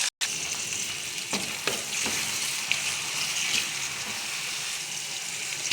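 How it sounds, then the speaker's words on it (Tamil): Chopped onions fry in hot oil with spluttered mustard seeds in a kadai, giving a loud, steady sizzle and crackle with a few stirring scrapes, no voices. "வெங்காயம் சேர்த்து லேசாக வதங்கினதும்"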